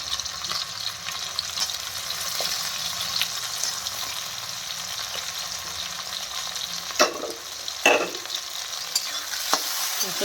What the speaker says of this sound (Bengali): এখন পেঁয়াজ আর টমেটোটা ভালো করে ভেজে নিই।